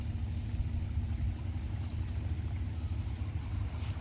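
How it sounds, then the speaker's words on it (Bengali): Boats and speedboats waiting at the shore of Havelock in the Andaman Islands, a low steady engine rumble close by, faint and continuous, with no talk. "বহু নৌকা, দ্রুতগামী সমস্ত বোট এখানে"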